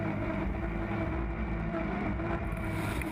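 Racing powerboat engines roar steadily on the start straight of a 2013 race in China, a dense, loud, unbroken drone with no talking.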